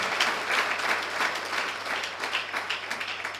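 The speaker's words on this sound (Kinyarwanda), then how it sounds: "If you're here, please put your hands together for my God." A church congregation applauds together, a dense, sustained wash of clapping with slight swells that carries on throughout without any talk over it.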